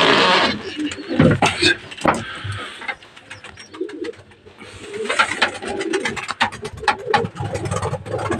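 Pigeons coo in a loft with chicks inside, soft repeated coos and fluttery bird sounds close by, along with scraping and handling noises and a faint engine hum in the background.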